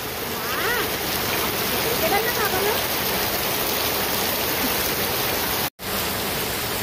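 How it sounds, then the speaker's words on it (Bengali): Rain pours down steadily after a long dry spell, a dense continuous hiss close by, with faint voices in the background and a brief dropout near the end. "অনেক দিন পরে বৃষ্টি হলো বুঝলেন।"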